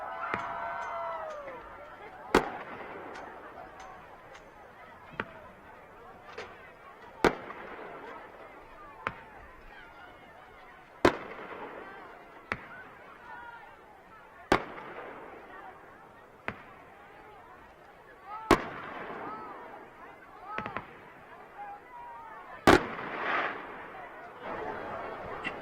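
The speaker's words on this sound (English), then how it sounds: "thank you, as always, to Century Bank of the Ozarks for providing the fireworks after each home victory." Fireworks go off after a home high school football victory, a long series of sharp, separate bangs spaced a few seconds apart over a broad outdoor rumble, some louder than others, with crowd noise between.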